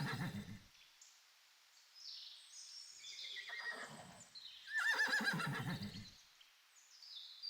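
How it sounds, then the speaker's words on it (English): A horse neighs in a few whinnying calls: a short low snort first, then a rising whinny, and a louder, fuller neigh near the end. The calls are close and clear, with no talking. "Horse."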